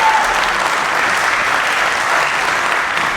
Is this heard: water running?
no